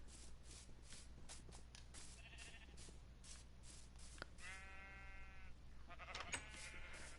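Several sheep bleats in a video game, wavering and nasal, sound at moderate distance over a steady low background hum, with a longer bleat near the end.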